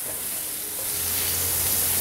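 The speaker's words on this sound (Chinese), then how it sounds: "关火，放入纯素奶油进来， 把纯素奶油融化" Vegan butter melting in a hot cast iron pan with the heat switched off, giving a steady, even sizzle with a bright hiss that grows slightly louder, and no voices.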